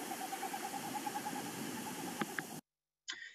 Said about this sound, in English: And that is actually the vibration of